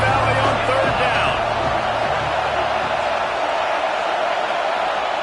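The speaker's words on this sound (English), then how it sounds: "Here comes the noise from this big crowd in Happy Valley on 3rd down." A big college football stadium crowd in Happy Valley roars on third down, a dense, steady wall of cheering and noise that holds loud and continuous throughout.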